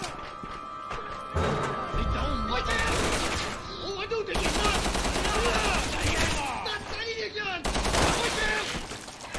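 Dense rapid gunfire in the video game Resident Evil 6 clatters in heavy overlapping volleys, with speech mixed in.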